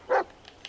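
A single short dog bark sounds in the Blair Witch video game, brief and fairly close, followed by faint quiet ticks.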